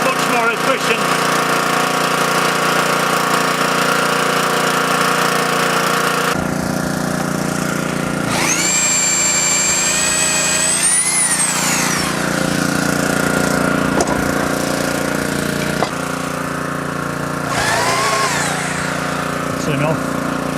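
A drill fitted with a new countersink bit whirs in several bursts, a rising whine climbing in pitch, over steady loud background machinery noise.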